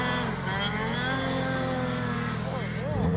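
An old turbocharged snowmobile engine runs loud and steady at close range, its pitch holding high and then wavering near the end.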